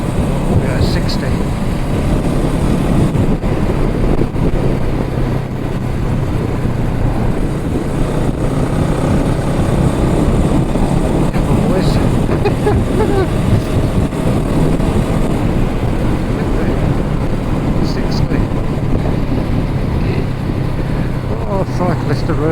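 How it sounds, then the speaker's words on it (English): Honda Rebel 500 motorcycle ridden at about 60, with steady loud wind buffeting and broadband rushing noise over a low engine drone throughout, close to the rider. "See how much wind noise there is"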